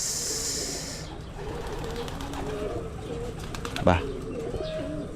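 Pigeons coo softly close by at a feeding, low repeated calls with light chirps, a brief wing flap or rustle near the middle, and faint background talk.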